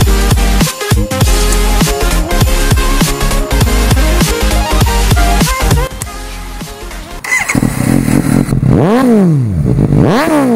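A Suzuki GSX-S 750 motorcycle engine revs hard in repeated loud bursts, climbing and falling in pitch, close and alone with no talking.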